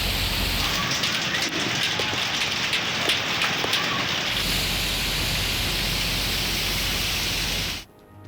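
Heavy rain pours steadily on Gujrat city streets, a dense, loud wash of drops hitting surfaces that holds unbroken for about eight seconds before cutting off abruptly near the end.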